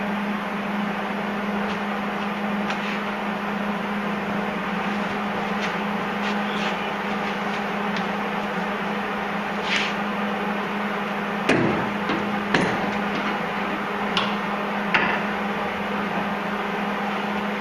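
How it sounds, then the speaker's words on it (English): Welding on the front of a Duramax truck bed over thin metal where old welds were cut off, giving a steady close buzzing hiss broken by sharp spitting pops and crackles, with no talking. "One thing that's causing the spitting and popping is I'm over top of where I cut those other welds off"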